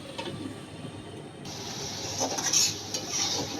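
Arabian chili chicken is stirred in a pot on the stove, giving soft scraping and light clinks under a steady hiss, with a brighter metallic clatter near the end as the lid goes on.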